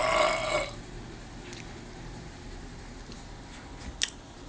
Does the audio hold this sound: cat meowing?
no